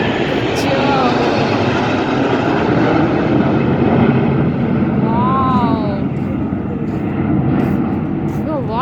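A train passes close by with a loud, steady rumble that holds throughout, a few tonal horn-like wails rising over it midway, while people talk nearby.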